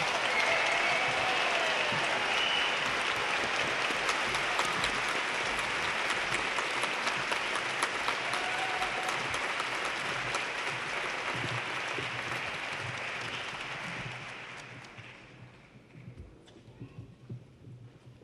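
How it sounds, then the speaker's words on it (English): A large commencement audience at the University of Oregon applauds doctoral degree recipients, a steady loud wash of clapping that gradually fades and dies away after about fifteen seconds. "Let's have a great round of applause for all of our doctoral degree recipients"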